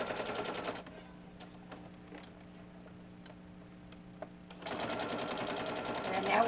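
A sewing machine stitches a tea bag wallet in quick rattling bursts, stopping for a few seconds while the fabric is pivoted, then running again, with a person talking nearby.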